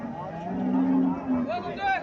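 A cow or calf at a cattle market lets out a drawn-out, close moo followed by a second shorter lowing call, with a person talking briefly nearby.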